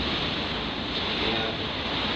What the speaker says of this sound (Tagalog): dinig na dinig dito sa loob. Pabugso-bugso yung lakas ng ulan.